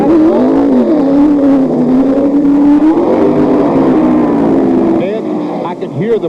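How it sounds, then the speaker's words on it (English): A NASCAR race car at Darlington, SC during the 1991 Transouth 500 revs hard, its engine whining up and down in pitch before fading, loud and close, with a commentator talking over it. "You heard that engine go, wow, wow"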